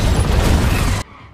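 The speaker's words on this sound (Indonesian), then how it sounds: "salah satu pengawalnya harus tewas setelah meledakkan granat di tangannya" A grenade explodes in the action film Hunter Killer, a loud roaring blast lasting about a second that cuts off abruptly into near quiet.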